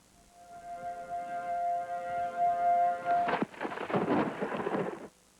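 Thunder rumbles and crackles through a night storm near Indianapolis, a sharp loud crack followed by rolling noise, heard after a steady siren-like tone with rain beneath.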